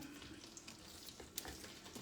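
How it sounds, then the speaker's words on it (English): Chicken fajita meat sizzles steadily in a frying pan, a soft continuous crackle with a few brief clinks of a utensil, fairly quiet and close. "It's a sizzling."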